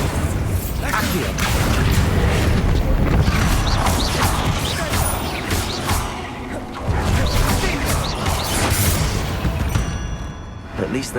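A Bombarda blasting spell explodes inside a tomb in Hogwarts Legacy, with loud crashing bursts, rumbling debris and clattering mechanisms filling the scene while voices talk over the din.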